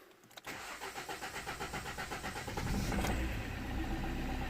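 A Vauxhall Corsa E 1.3 CDTI diesel with a reduced-power fault cranks with a rhythmic starter chug, then catches and settles into a steady, slightly louder diesel idle, close and clear.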